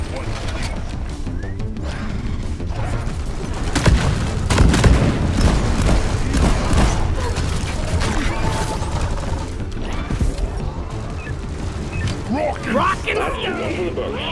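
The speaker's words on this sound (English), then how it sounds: "Sentry gun, it's assembling." Team Fortress 2 engineer's sentry gun assembling in the game: clanking mechanical ratchets and heavy metallic booms, dense and loud, mixed with other game effects for over fourteen seconds.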